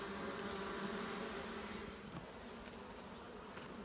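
Honey bees in a nuc hive, a faint steady buzzing hum from many insects close by, continuous throughout with no talk.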